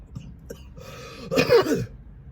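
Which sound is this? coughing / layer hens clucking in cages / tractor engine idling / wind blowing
coughing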